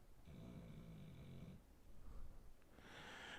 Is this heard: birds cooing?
no